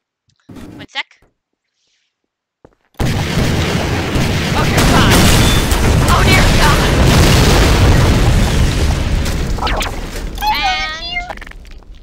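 A missile explosion in the video game Garry's Mod bursts in suddenly as a loud, sustained roaring boom after brief speech and silence, rumbling for several seconds before tapering off.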